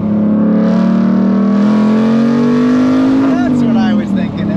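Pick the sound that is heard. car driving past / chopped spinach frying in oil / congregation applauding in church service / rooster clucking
car driving past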